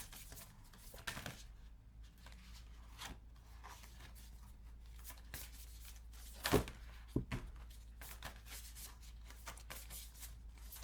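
A deck of cards is shuffled by hand in a quiet room, with soft irregular riffles, rubs and a few sharp taps spread across the stretch, faint and close, with no talk.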